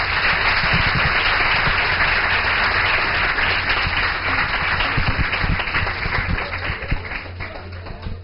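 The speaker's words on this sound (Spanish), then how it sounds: "Por favor, un fuerte aplauso." A conference audience gives a loud, sustained round of applause with dense, even clapping from start to finish and no speech over it.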